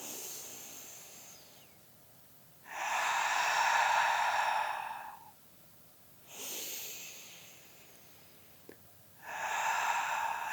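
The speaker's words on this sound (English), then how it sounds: "Take 2 more deep breaths here." Slow, deep breaths during a seated adaptive yoga exercise, three long airy breath sounds close to the microphone, each a few seconds long, separated by quiet pauses.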